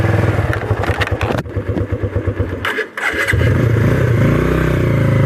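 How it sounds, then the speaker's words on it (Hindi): A motorcycle engine starts up close by and settles into a loud, steady chugging idle, with a brief dip partway through before it runs on. "अब हम स्टार्ट करने वाले हैं अपनी बाइक"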